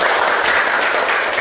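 Steady applause from a classroom of students fills the whole short stretch, dense and even, with no talk over it.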